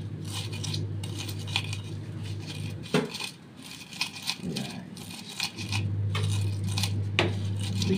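Chili peppers are pounded coarsely in a stone mortar with a pestle (ulek) for soup, making repeated close grinding and knocking scrapes in an uneven rhythm over a steady background hum.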